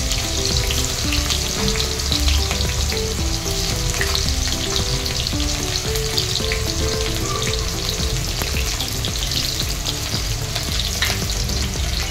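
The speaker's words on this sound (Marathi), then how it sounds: "आपण यात कांदा आणि हिरवी मिरची देखील चांगली तेलात परतून घेणार आहोत।" Onion and green chili fry loudly in a pan of oil for a matar paneer biryani, a constant dense sizzle with stirring scrapes, close up and alone for the whole stretch.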